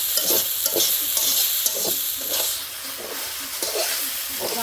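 Chili peppers fry in a pan with a steady sizzle and hiss, while a utensil stirs and scrapes in short repeated strokes, close and moderately loud.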